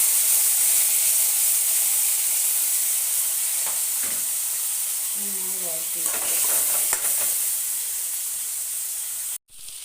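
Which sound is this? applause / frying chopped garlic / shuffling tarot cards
frying chopped garlic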